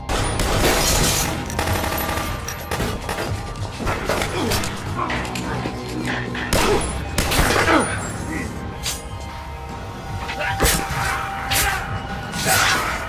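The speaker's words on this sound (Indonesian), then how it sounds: "sehingga baku tembak pun kembali terjadi." Gunfire in a film shootout scene involving mafia gunmen, with bursts of shots and rattling volleys mixed with barking dogs and loud soundtrack noise, while a voice talks over it.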